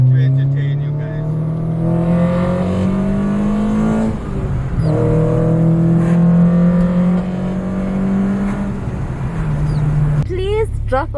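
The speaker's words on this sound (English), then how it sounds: "We're driving fast and burning petrol." A car burning oil accelerates hard through the gears, its engine note climbing steadily in long sweeping pulls with brief dips at each shift, loud and close from inside the cabin, with a voice talking over it.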